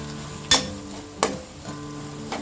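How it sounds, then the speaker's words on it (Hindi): Onion-garlic masala fries in a pan with a low steady sizzle, broken by three sharp scraping clicks of a spoon stirring, close and alone. "हमारे मसाले भी अच्छी तरह से फ्राई हो गए"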